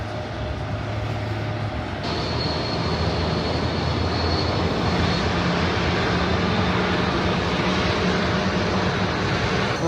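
Aircraft engines roar loud and steady at London Heathrow Airport, heard from a rooftop terrace, with a higher whine joining partway through as a jet spools up nearby.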